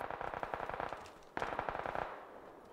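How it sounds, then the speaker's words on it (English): Bursts of rapid gunfire crackle in quick succession, fairly faint and distant, with a brief pause before another volley. "I have another gunfire."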